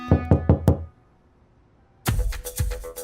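Knocking on a door, a quick run of four sharp raps, a pause of silence, then another burst of loud knocks close by, with no talking.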